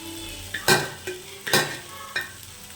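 Cooked ration rice is stirred into a pan for fried rice, with four distinct scraping, sizzling strokes of a spoon against the metal, spaced and close, between short quiet gaps.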